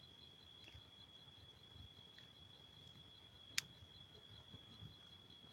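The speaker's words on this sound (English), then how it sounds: "you can probably hear the crickets when I'm not talking." Crickets chirp at night in a quiet outdoor setting, a steady thin high trill running through the whole stretch under faint low background rumble, with one brief sharp click partway through.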